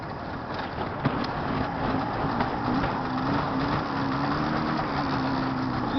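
Small two-stroke engine of a Jawa 634 motorcycle running steadily at a near idle on a cold winter day, a continuous buzzing drone with wind noise and no speech.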